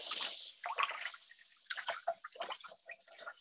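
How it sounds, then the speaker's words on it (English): Hands get rinsed under a running kitchen tap after handling charred corn, a close splashing patter of water that breaks up and sloshes unevenly over the hands for a few seconds. "Let me give my hands a rinse."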